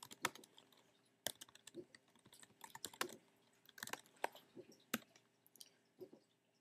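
Quiet, close-up typing on a computer keyboard as a movie title is entered in iMovie, an irregular run of crisp key clicks with a few sharper, louder strikes and short pauses.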